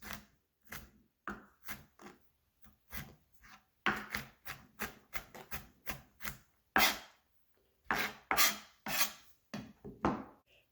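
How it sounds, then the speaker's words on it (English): Knife roughly mincing food on a cutting board, quick irregular chops and scraping strokes close up, in uneven bursts with brief pauses, no voices. "I'm just going to mince them up really roughly"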